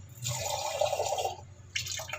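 Water splashes and trickles steadily into a container of tupig batter mixture for over a second, followed by a brief second pour after a short pause.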